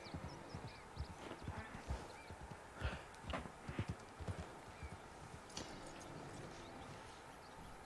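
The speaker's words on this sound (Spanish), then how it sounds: "déjame montar tu caballo porque vamos a ir a una distancia bastante larga" A horse's hooves clip-clop in a video game, a quick rhythmic gallop of faint thuds with an occasional snort, steady and fairly distant.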